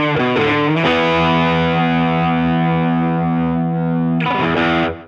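Distorted electric guitar through effects pedals, dialed toward a particular song's tone: a few picked notes, then a long sustained chord ringing out and a short closing riff, loud and alone.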